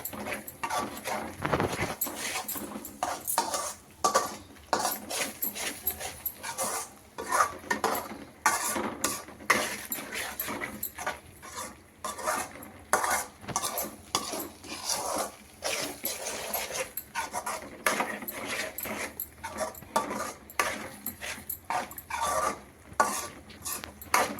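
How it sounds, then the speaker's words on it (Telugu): Paneer curry stirred in a pan with a spoon, steady scraping and clinking of metal on the pan over a soft sizzle, close and fairly loud, no talking. "ఇలా వేసేసి ఒక్కసారి కలిపేసుకుందాం."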